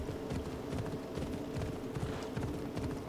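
Horse hooves clip-clop at a steady riding pace over ground in Assassin's Creed Odyssey, a continuous rhythmic trot heard close with a low ambient bed and no talking.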